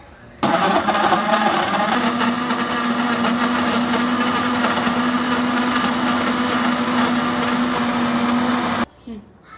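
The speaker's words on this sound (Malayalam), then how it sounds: "ഇതൊന്ന് മിക്സിയിൽ അടിച്ചാലോ" An electric mixer whirs loudly and steadily for several seconds, blending a thick mango shake with sugar, then cuts off abruptly near the end.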